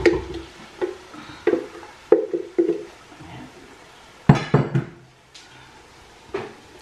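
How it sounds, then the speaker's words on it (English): Blended tomatoes and pepper poured and spooned into fried onions in a pot for egusi stew, a series of close knocks, scrapes and clatters with a soft wet sizzle between them. "I'm gonna add the blend tomatoes and the pepper"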